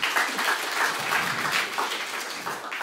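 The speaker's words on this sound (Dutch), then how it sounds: "Dus geef haar een warm applaus." A studio audience gives steady applause for a guest on a Dutch discussion programme, sustained clapping at moderate level across the stretch with a faint voice murmuring underneath.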